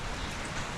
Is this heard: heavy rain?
yes